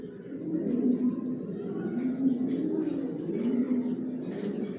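Johnson-line racing pigeons coo continuously in a rooftop loft, a soft, overlapping murmur that holds at a steady level throughout.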